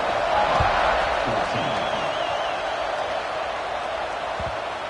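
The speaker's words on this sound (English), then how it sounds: "this crowd is buzzing after that last score" A stadium crowd at an American football game sends up a broad, steady roar after a score, with faint whoops and scattered cheers inside the wash of noise.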